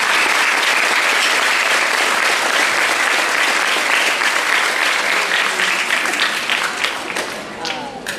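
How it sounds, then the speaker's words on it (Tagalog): Loud, sustained applause from a crowd at an elementary school graduation ceremony, a dense wash of clapping that holds steady for several seconds and then thins out and fades near the end. "Handugan natin sila ng masigabong palakpak."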